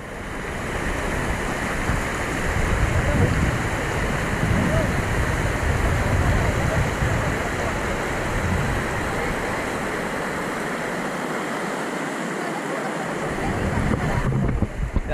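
A river in Vangani runs over a rocky, algae-slick bed with a loud, constant broadband rush. The flow stays steady for the whole stretch and eases slightly toward the end.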